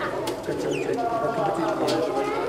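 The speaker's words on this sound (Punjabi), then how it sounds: "ਲਓ ਜੀ ਚਿੱਟੀਆਂ ਅੱਖਾਂ ਦੀ ਕਬੂਤਰੀ ਹੈ" A white-eyed female pigeon coos softly in a loft, with other birds chirping faintly around it and a steady low background hum throughout.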